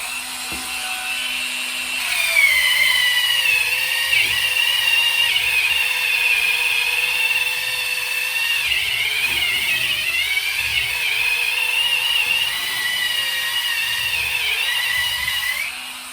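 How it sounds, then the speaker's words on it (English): A Dremel Versa power scrubber with a wide brush head whirs steadily against mold on a bathroom surface, a close, continuous high-pitched motor drone with slight pitch wobble as it presses and rubs. "I'm gonna go in with the scrubber now."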